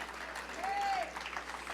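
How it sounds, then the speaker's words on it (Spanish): Applause from a church congregation at a midweek discipleship service, steady and moderately loud for a short stretch, with a faint sustained tone rising and falling beneath it. "hay que darle un aplauso a Cristo porque pronto viene"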